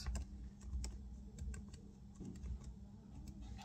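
Quick clicking keystrokes on a computer keyboard, a steady run of close taps with small irregular pauses over a faint background hum, no voices.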